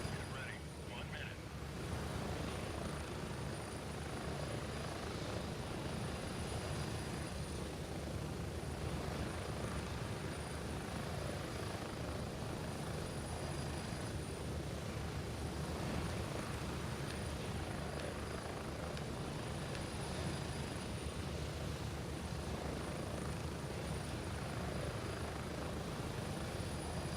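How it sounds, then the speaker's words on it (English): Helicopter in flight in the video game Gray Zone Warfare: a loud, unbroken rotor and engine roar fills the whole stretch, steady and dense throughout. "I don't know how my comms are coming across with this helicopter sound"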